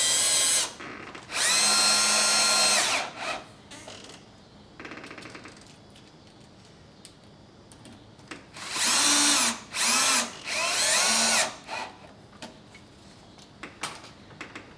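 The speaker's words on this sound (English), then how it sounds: "make sure you go nice and easy on the drill" A power drill driving screws while installing a door lock whines in several loud bursts, a long run early then three shorter pulses later, with quieter clicks and handling noise between.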